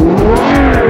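A loud, close Aston Martin Vulcan engine in a video game revs hard and steadily, a dense throaty roar rising slightly in pitch over one second.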